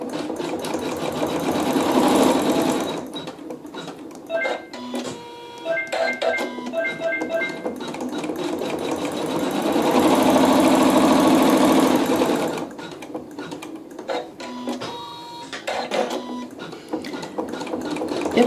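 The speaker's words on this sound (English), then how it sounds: "So we'll go ahead and do our quilting." A sewing machine quilts a mystery quilt in long runs of rapid rhythmic stitching, with brief pauses and mechanical clicks between, close and fairly loud without talk.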